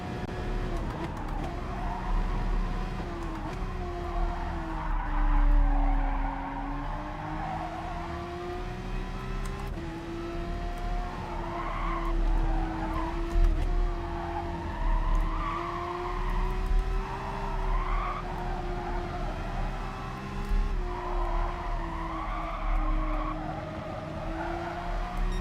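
Race cars in the GT Sport video game, including a Jaguar, Aston Martin and GTO, drone steadily with engine tones rising and falling and occasional tyre skids over about 25 seconds of continuous loud racing.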